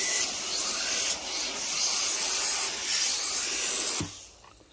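Cleaning solution sprayed onto heavily soiled carpet, a continuous loud close hiss that wavers slightly in strength and then stops sharply near the end.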